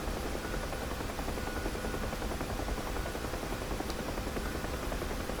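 Huey helicopter in the DCS flight simulator: a steady, continuous rotor and turbine drone, moderately quiet and unchanging, with no talk.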